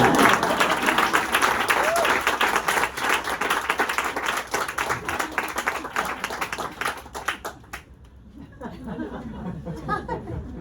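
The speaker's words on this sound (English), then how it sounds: "Can we give her a round of applause?" An audience at a book launch claps steadily in dense, close applause with a few chuckles and some chatter, then the applause thins out and fades before voices and scattered sounds return near the end.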